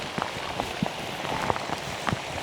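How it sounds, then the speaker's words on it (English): Rain falls steadily in an autumn forest, a close, even hiss of drops on leaves and surfaces with scattered louder individual drips throughout, and no voices. "I think it is supposed to rain quite heavily on and off today."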